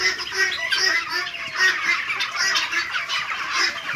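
Broiler chickens crowded in a poultry farm shed give a continuous chorus of close clucking and chirping calls, steady throughout with no talk.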